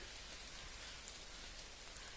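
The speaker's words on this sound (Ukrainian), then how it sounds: "Паде дрібний дощ." Light drizzle falling in the misty Carpathian mountains, a faint, even hiss of fine raindrops that stays constant throughout with no voices.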